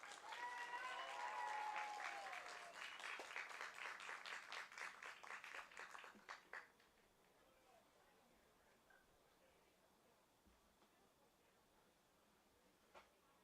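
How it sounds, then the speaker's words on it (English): A crowd applauds a boys' soccer team steadily for several seconds, the clapping thinning to a few scattered claps before fading into quiet room tone. "Let's give them a round of applause."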